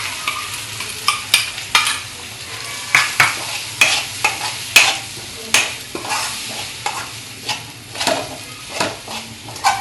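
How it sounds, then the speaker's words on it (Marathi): Gram flour batter goes into a pan over low heat and is stirred, giving a steady run of scraping, clinking strokes against a soft sizzle, close and fairly loud with no talking. "आता गॅस बारीक करून आपण हे बेटर टाकून घ्यायचं."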